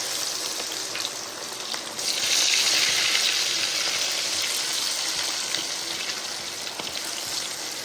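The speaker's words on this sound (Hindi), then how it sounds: "अब हम इसको फ्राई करेंगे।" Sesame-coated marinated chicken pakora fries in hot oil with a loud, continuous hiss that swells when the pieces go in and stays steady and close.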